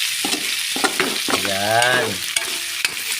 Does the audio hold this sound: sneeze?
no